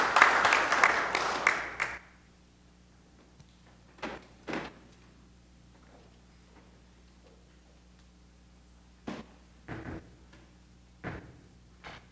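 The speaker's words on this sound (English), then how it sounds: "One more round of applause, if you don't mind, for everybody." Applause from the audience at an Oklahoma City City Council meeting rings out loud for about two seconds, then cuts off into a quiet room with a few scattered knocks and bumps.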